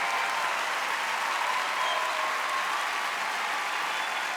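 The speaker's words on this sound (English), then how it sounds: "Heidi, you're standing up, you're clapping, you're cheering." A large television talent-show audience at a semifinal breaks into sustained applause, dense and even throughout, with a faint crowd roar blended in and no talk over it.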